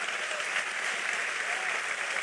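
Church congregation applauds during a pastor's sermon, a steady even wash of clapping with no break, moderately distant and fairly quiet.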